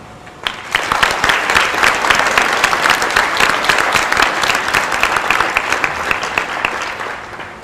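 Audience applause at a senior awards ceremony honoring students, a dense, steady wash of many hands clapping that swells in quickly and holds at full loudness for several seconds without talk.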